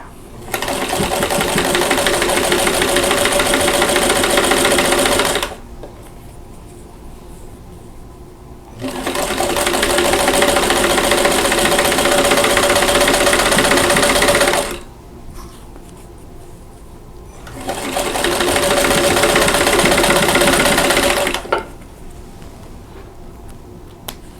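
A sewing machine stitching a quilt block runs in three long loud bursts of rapid steady whirring, each lasting several seconds, with quiet pauses between runs.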